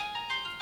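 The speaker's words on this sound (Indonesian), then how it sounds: "Ada telepon." A telephone ringtone plays faintly in a room, a short electronic melodic trill with pulsing tones and no talk over it.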